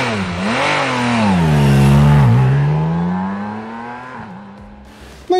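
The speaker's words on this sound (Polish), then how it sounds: "gdy się wkręca na wysokie obroty, te sześć cylindrów robią takie zamieszanie" A BMW K 1600 Grand America six-cylinder motorcycle engine revs up close and loud, pitch climbing smoothly, holding high, dipping and rising again before easing off, alone without talk.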